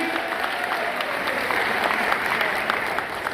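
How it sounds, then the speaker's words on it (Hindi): Audience applause at a Modicare product launch event in India, a steady, close burst of many people clapping together for a few seconds without speech. "तालियां हो सकते हैं एक बार नए आरबीओ के लिए"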